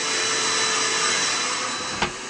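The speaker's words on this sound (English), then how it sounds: "it's nice to have it in an enclosed space with a vacuum, because it's noisy" A vacuum runs inside the enclosure of a motorized buffer used for polishing stamped stainless steel, giving a loud, steady broadband roar with a brief sharp click near the end.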